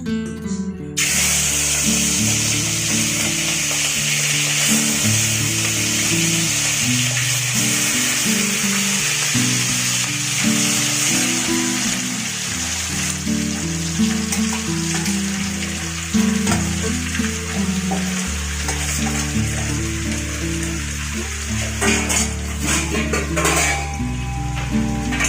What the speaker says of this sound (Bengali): তেল গরম হয়ে গেছে, মাছগুলো দিয়ে দিয়ে ভেজে নেব।